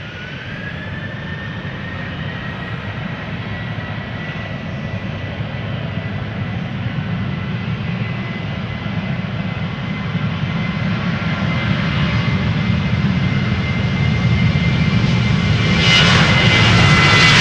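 An Orange Pride airliner takes off from Schiphol's center runway, a continuous jet-engine roar with a sustained whine that builds steadily louder toward the end as the aircraft powers up.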